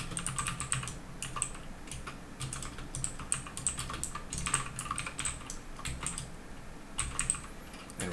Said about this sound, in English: And we're typing, so it's a keyboard event on an HTML input element.